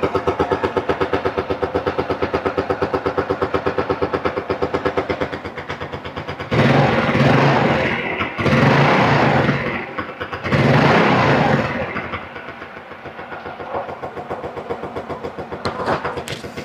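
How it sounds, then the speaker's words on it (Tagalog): A Yamaha Mio Sporty scooter with a diaphragm-type carburetor idles close by in a steady, even putter, rising into three short revs in the middle before settling back to idle, with no talk. "Maganda naman yung idle niya."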